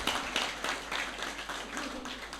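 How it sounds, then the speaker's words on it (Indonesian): Audience applause following a poetry reading at a book launch for a poetry anthology, a soft, steady patter of many hands clapping at some distance, fairly faint throughout the short stretch with no one speaking. "Tepuk tangan Mbak Nun."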